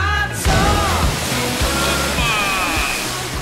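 Water sloshing and rushing onto a sailing boat with a torn sail, a continuous broad wash that surges in after a brief quieter start and stays loud throughout, with low rumbling thumps beneath.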